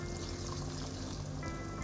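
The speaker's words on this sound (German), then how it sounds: "Und etwas Wasser dazu." Water pours steadily from close by into a cooking pot of Ghanaian okra stew with snail broth and vegetable stock, a continuous splashing fill with no talk.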